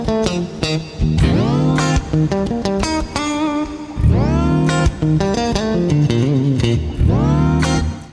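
An electric guitar runs through the XPlode plugin's tape preset, loud, close phrases whose pitch swoops up and sags down in warbling glides, repeating over several strummed notes without any talk.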